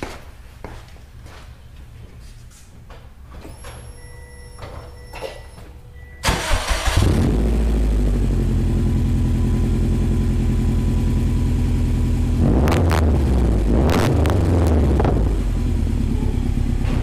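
A 2007 Subaru STi with a Blitz Nur Spec exhaust cranks and fires up after some quiet clicks, then settles into a loud, deep, steady idle with two brief throttle blips near the end.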